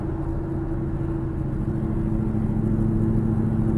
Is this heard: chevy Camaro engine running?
yes